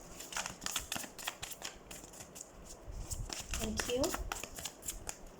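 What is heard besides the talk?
tarot cards being shuffled and drawn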